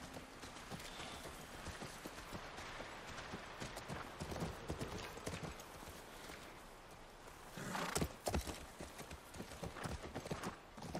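Horse hooves clip-clop in a steady walking rhythm near a ranch in the video game The Last of Us Remastered, close and continuous over faint background, with a louder scuffing burst toward the end.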